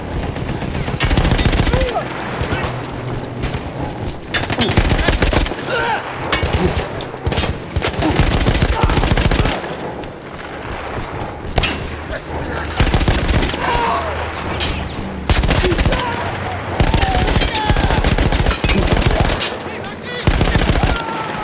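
Sustained machine gun fire from a captured Austro-Hungarian gun emplacement in Battlefield 1, a World War I shooter, hammers loud and close in long rattling bursts with brief pauses, mixed with battlefield explosions and distant shots.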